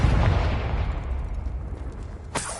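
A fiery Confringo spell blast booms in Hogwarts Legacy, a loud broadband rumble that fades slowly, then a second sharp burst lands near the end.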